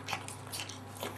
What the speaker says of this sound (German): Kauen.